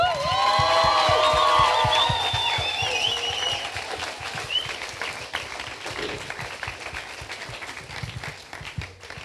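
Church congregation at a youth Sunday service applauds after youth testimonies, with dense clapping and a few high voices early, the clapping thinning out over several seconds.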